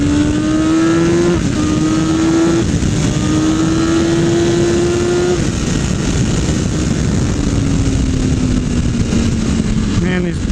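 A 2020 BMW S1000RR motorcycle accelerates hard in second gear, its loud, steady engine note climbing in pitch with brief shift-like breaks, heard up close under heavy wind roar throughout.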